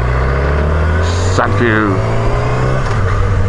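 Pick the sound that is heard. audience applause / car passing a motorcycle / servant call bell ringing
car passing a motorcycle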